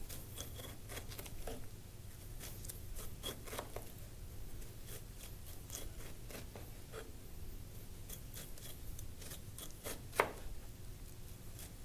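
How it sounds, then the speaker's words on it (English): A knife saws through meat in short, repeated crisp strokes, close by, with a low steady hum underneath and one sharper scrape near the end. "drag your knife sort of straight down, sort of sawing motion"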